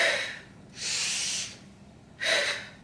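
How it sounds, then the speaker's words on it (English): Exercise breathing demonstrated between sandbag squats: a long, airy inhale through the nose, then a steady exhale through pursed lips, then another inhale starting. The breaths are close, moderately loud and have no talk over them. "I'm going to breathe in through my nose. On the way back up, I'm going to exhale through pursed lips."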